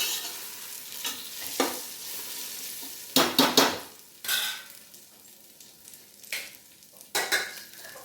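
Tomatoes frying in a pan for mint rice, with a steady low sizzle broken by several loud scraping stirs of a utensil against the pan at irregular intervals.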